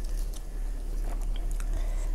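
Close-up biting and chewing of fried mackerel eaten with mushroom chili dip: steady moist crunching and mouth sounds, with faint low-level noise behind.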